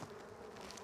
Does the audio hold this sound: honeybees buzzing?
yes